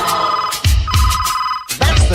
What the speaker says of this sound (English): That's the top secret gadget phone.